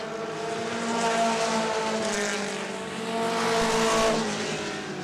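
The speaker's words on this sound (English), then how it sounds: "Three wide battle nearly in one and two" Mini stock race cars racing at Angola Motorsport Speedway in a 20-lap feature, several engines roaring together in a loud sustained drone that swells twice as the pack passes near, with no talk.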